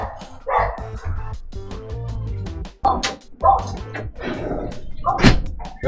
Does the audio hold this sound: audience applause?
no